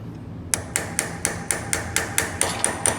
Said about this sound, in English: listen to the sound of the hammer.